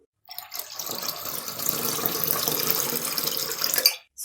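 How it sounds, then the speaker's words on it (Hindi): Two glasses of water pour steadily into mango juice in a kitchen, a close continuous splashing stream lasting about four seconds before stopping, with no talk over it. "दो गिलास पानी ऐड कर देंगे।"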